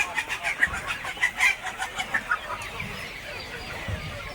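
Free-range village chickens feeding on drumstick leaves cluck in a quick run of short rhythmic calls close by, easing into quieter scattered sounds of the flock.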